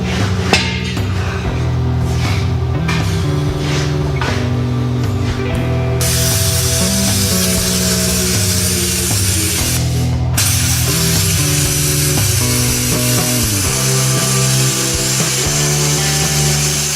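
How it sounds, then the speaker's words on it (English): A Hypertherm plasma cutter gouges out a weld with a loud, continuous hissing roar that runs steadily for the whole stretch, close by, with a brief break partway through. "I came in and plasma gouged it out"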